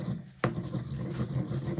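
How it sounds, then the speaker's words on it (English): Soil microorganisms being ground into a powder, heard as a low, steady rasping rub with one sharp click near the start, close and fairly quiet. "we're just grinding them up to a powder form"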